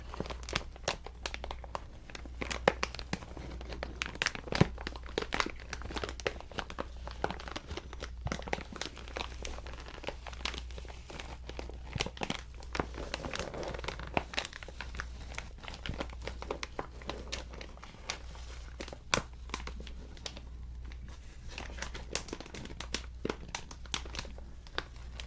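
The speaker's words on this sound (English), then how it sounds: "Crinkling the craft paper," Close crinkling and crunching of craft paper stuffed between layers, a steady run of crisp, irregular rustles and crackles over a low constant hum, with no talking.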